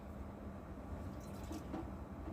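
Water, about six litres, poured into a cooking pot in a home kitchen, a steady splashing and filling sound with a brief louder gush partway through, alone without talk.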